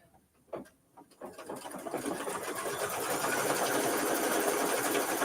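A computerized quilting sewing machine stitches background quilting on a Kimberbell mini-quilt, starting after a few soft clicks and building into a steady, fast whirring hum that runs on without talk.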